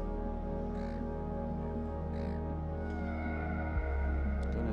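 A crow caws twice beside the sea at Gerroa, Australia, with two harsh calls standing out over a steady low background hum and the wash of the shore.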